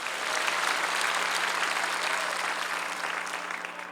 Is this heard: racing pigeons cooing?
no